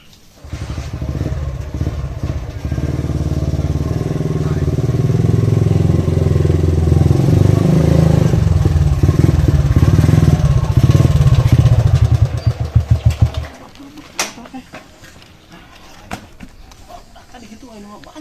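A motorcycle engine runs loud and close, growling steadily for about thirteen seconds while voices talk over it, then cuts out and leaves a few thumps and clatters in near quiet.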